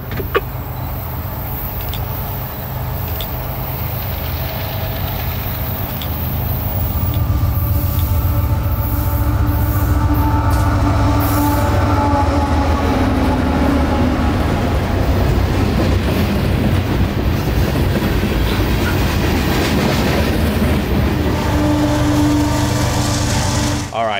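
Freight train Q453-25 rolls past on the S-line in Central Florida, its steady rumble and wheel noise building and holding loud and close, with wheel squeal and scattered clanks over the continuous roar.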